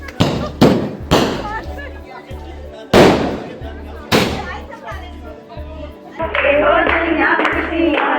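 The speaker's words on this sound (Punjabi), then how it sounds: "ਗੁਰਜੰਟ ਸਿੰਘ ਦੇ ਘਰ ਦੀਆਂ ਜਿੱਥੇ ਪਰਿਵਾਰ ਦੇ ਵੱਲੋਂ ਪਟਾਕੇ ਆਤਿਸ਼ਬਾਜ਼ੀ ਦੇ ਨਾਲ-ਨਾਲ ਗਿੱਧੇ ਭੰਗੜੇ ਪਾ ਕੇ ਖੁਸ਼ੀ ਮਨਾਈ ਗਈ ਹੈ" Sharp firecracker bangs ring out several times, loud and echoing, then a dense crackle of fireworks takes over, at a family celebration at the home of Indian hockey team player Gurjant Singh; a low hum of voices runs underneath.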